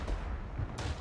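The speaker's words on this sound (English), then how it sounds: "Some shooting." A couple of dull, booming shots in the World War I shooter Verdun, one early and a sharper crack near the end, set against a low rumbling battlefield background.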